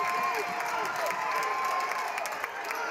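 At a high school basketball game between Southfield A&T Warriors and Southfield Christian Eagles, players on the bench clap and cheer after a score, a steady wash of crowd noise and applause with no single standout voice.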